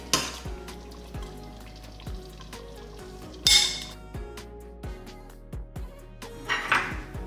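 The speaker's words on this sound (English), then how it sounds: "now I'm just gonna plate it up" Homemade chili ladled into a bowl in a home kitchen, with a series of close, distinct clinks and scrapes of a serving spoon against the pot and bowl, and a few brighter splashy pours.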